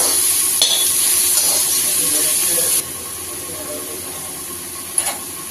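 Cucumber pieces sizzle in a pan with sautéed onion while a spoon stirs them, giving bright crackling frying noise with scraping strokes, close up, and no talking.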